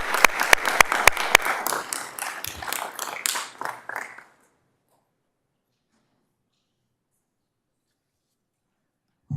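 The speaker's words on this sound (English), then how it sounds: "Let's give them a round of applause." A burst of applause from a room of people at a city council meeting for about four seconds, then it fades out into silence.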